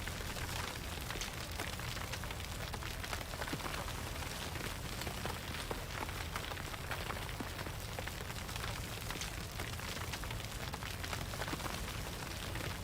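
Road construction in the Workers & Resources: Soviet Republic video game, with earth being moved and leveled as a steady hiss of pattering gravel, like dense rain, running unbroken at an even level throughout.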